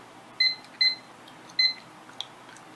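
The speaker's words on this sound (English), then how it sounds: "So let's set the timer for 2 minutes." Three short electronic beeps from a kitchen timer being set for two minutes while pressure canning milk, evenly spaced and fairly close, followed by a faint click, with no talking.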